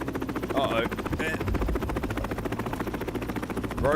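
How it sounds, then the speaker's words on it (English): A rogue helicopter in the video game The Last Caretaker drones with a steady, rapid rotor chop throughout, with brief mechanical chirps and a voice partly heard over it. "Rogue chopper."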